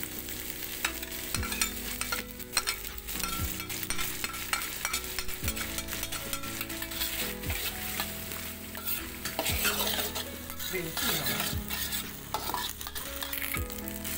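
Fern shoots stir-fried in a pan with oyster sauce, a steady close sizzle and frying hiss broken by repeated scraping sweeps of a spatula across the pan, with no voices.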